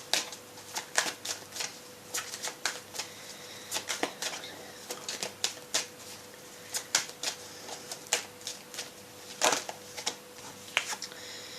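Tarot cards are shuffled and drawn by hand, giving a fast run of soft, close riffling flicks and light snaps in irregular bursts against a quiet background.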